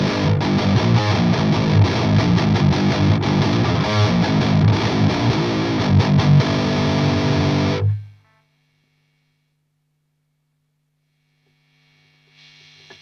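Electric guitar played through an Airis Effects Savage Drive pedal into a Victory Kraken amp, all knobs at noon, roars with heavy, loud distortion for about eight seconds, then cuts to near silence with a faint lingering hum and hiss.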